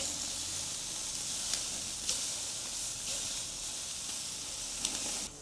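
Half chickens grill on the cool side of a barbecue, giving off a steady, fairly loud hiss of fat and steam with a few small pops and crackles scattered throughout.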